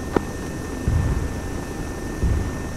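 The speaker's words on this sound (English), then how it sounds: "there is an MI-24 Hind inbound on your position" In a military video game, an Mi-24 Hind helicopter drones steadily overhead, a continuous loud engine and rotor roar with two brief heavier low thumps and a short click near the start.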